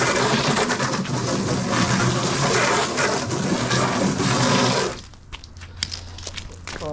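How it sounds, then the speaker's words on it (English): Running water rinses something off in a steady, dense splashing rush for about five seconds, then cuts out, leaving faint scattered drips and small knocks. "Just rinse it off for the last time."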